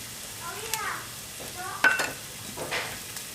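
Onion and ginger-garlic paste sautéing in oil with turmeric for a Kerala chicken curry, giving a quiet, low sizzle with a few soft utensil scrapes.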